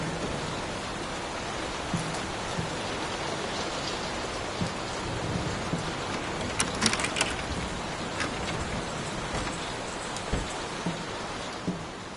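Steady rain falls in the video game Layers of Fear, a dense even patter with a few faint low rumbles and scattered drips, no voices.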